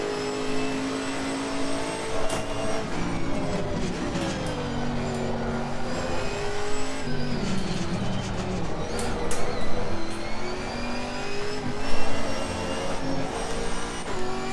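Chevrolet Camaro GT4 race car in a racing game at the Misano circuit, its engine droning and revving steadily throughout with shifting pitch, loud and close with no talk.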